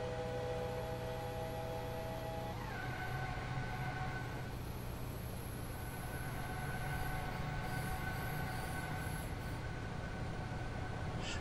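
A BR424 electric train in Train Simulator 2016 on the Hamburg–Hanover line, with a steady rail rumble under whining tonal motor hums that shift pitch partway through, and faint squeals higher up. No one speaks.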